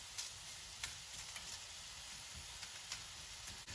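Chicken sizzling as it sautés in a pan on a stovetop set to low, Szechuan-style, a steady close crackling fry with small pops and no talking.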